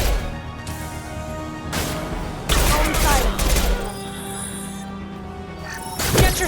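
Gunfire in a Mass Effect 2 firefight: bursts of rapid shots and crashing impacts, loud and dense, with shouted voices mixed in among the combat noise.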